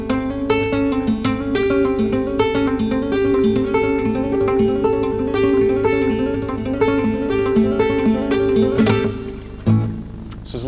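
A guitar plays a flamenco-flavored lick, bending between a minor and major third over held chord tones in a fast, steady run of plucked notes that ends abruptly near the close.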